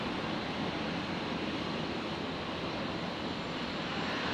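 A Virgin Boeing 737-800 begins its takeoff roll on runway 19 left at Brisbane International Airport at night, a faint, steady broadband jet roar heard from a distance.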